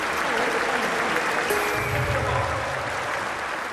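A large crowd applauds swimmers at an Olympic pool in London 2012, a dense, steady roar of clapping lasting the whole moment with no voices.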